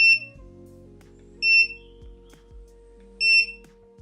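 A Prologic BAT Commander fishing bite alarm sounds three short, loud electronic beeps at evenly spaced intervals as its volume button is pressed, with a soft low hum between the beeps.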